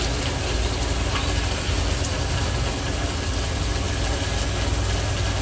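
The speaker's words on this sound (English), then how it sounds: "Turn my pump back on." A homebrewing pump runs with a steady, continuous mechanical hum and whir, close and even throughout with no voices, moving hard seltzer wort during cooling and keg filling.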